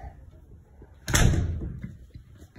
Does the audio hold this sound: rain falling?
no